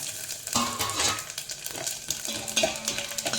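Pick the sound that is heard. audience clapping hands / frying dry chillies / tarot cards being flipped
frying dry chillies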